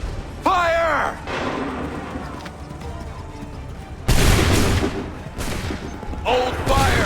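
Musket volleys in Assassin's Creed 3 boom out as several broad, loud bursts of gunfire separated by a few seconds, with shouted voices heard among them on a battlefield.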